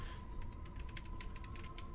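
Typing on a computer keyboard at a LAN party, a quick irregular run of faint, soft key clicks with a steady hum behind it and no voices.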